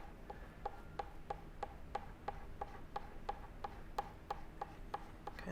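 Encaustic wax paint layers are scraped with a tool in a brisk, evenly spaced series of about eighteen short rasping strokes, quiet and close, with no voices.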